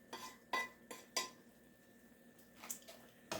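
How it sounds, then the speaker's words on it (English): Utensil scraping and clinking against a pot while tortellini cheese soup with broth, parsley and vegetables is stirred, a few sharp knocks spaced through a quiet background, no talking. "And stir it up real good."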